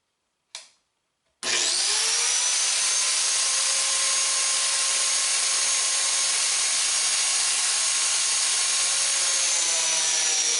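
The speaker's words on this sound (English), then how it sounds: "Turn the spoke over and repeat the same biscuit cut." A biscuit joiner gives a short blip, then spins up and cuts into a wooden water wheel spoke with a loud, sustained high whine that runs steadily to the end, close and alone.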